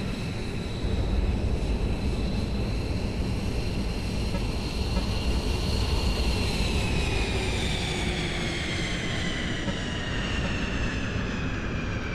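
A fighter jet roars steadily overhead, a loud continuous engine rumble with a slowly falling whine as it passes, filling the whole stretch with no talking.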